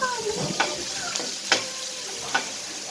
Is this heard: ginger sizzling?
yes